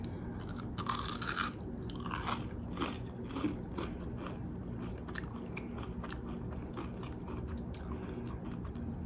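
Close, quiet crunching bites and chewing of a fried crab rangoon cheese stick, with loud crisp cracks at first that settle into softer, repeated chewing.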